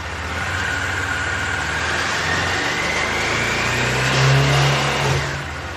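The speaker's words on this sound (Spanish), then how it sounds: "Vamos a acelerar la motocicleta solo un poco para ver a qué voltaje sube." A Bajaj Dominar 400 motorcycle engine revs up steadily from a running idle, the pitch climbing and swelling louder toward the end before easing off; no voices.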